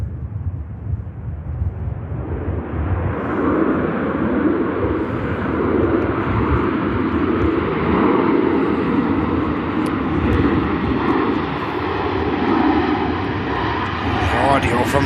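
A Ryanair airliner at Manchester Airport roars past, a broad, loud jet rumble holding steady for the whole stretch, with a faint voice underneath.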